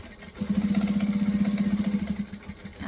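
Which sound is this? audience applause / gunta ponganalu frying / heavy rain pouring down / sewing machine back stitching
sewing machine back stitching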